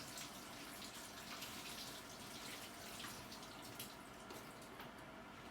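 Tap water runs steadily into a sink while fresh strawberries are rinsed beneath it, a soft continuous splashing hiss with faint drips, quiet and unbroken, with no talking.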